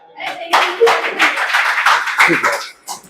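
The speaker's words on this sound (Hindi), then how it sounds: "आनंद कुमार के लिए ताली बजा दीजिए एक बार।" Students in a 10th class quiz competition clapping for contestant Anand Kumar, a burst of close, fairly loud group hand claps lasting a couple of seconds, then tapering off.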